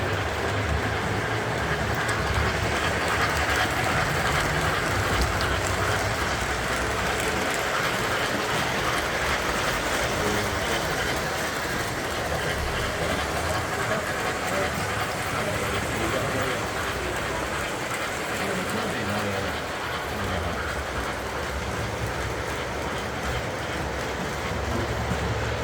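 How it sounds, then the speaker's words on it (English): A full working miniature train runs in the train section of an antique and collector vehicle display, giving a steady rolling rumble with faint clickety-clack under the constant murmur of a crowd and people talking nearby. "The train section, they have a full working miniature train."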